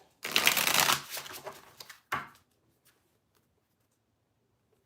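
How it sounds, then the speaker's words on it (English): A deck of tarot cards is shuffled in one long burst of riffling and flicking, followed by a shorter second shuffle, then near silence with a few faint taps. "I'll pull one of these cards."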